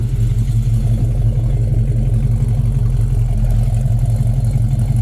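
A 1970 Chevy Chevelle Super Sport with a 396 V8 idles steadily up close, its exhaust giving a deep, loud, lumpy rumble that pulses evenly throughout with no one speaking.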